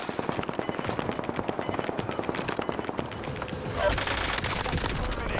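Rapid automatic gunfire from a Kilo 141 rifle in Call of Duty Warzone on Rebirth Island, a dense, steady stream of loud close shots for several seconds, then a heavier rumbling burst near the end.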